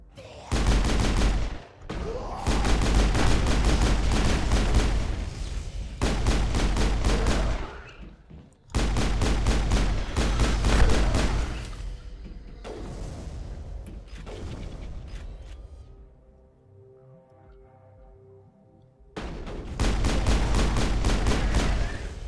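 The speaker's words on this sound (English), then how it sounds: "That shotgun's really powerful." Repeated shotgun blasts and firefight gunfire in the Mass Effect video game, loud sustained volleys of shots in several bursts with brief gaps and a quieter lull near the end.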